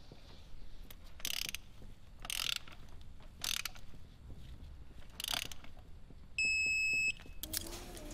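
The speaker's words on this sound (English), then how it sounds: "you're gonna torque them down to 13 foot-pounds" Torque wrench tightening spark plugs on an S197 3.7L V6 Mustang, giving several sharp ratcheting bursts at close range, with a brief electronic beep tone near the end.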